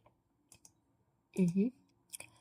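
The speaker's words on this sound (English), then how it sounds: "Just clicking on enter." A few sharp computer keyboard clicks, including a press of the enter key during software data entry, sound close and distinct with brief gaps between taps.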